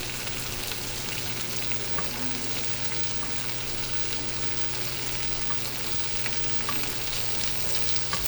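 Scallops sizzle in a hot pan as they are basted with rosemary-infused oil, an even, constant frying crackle with a low steady hum beneath and no talking.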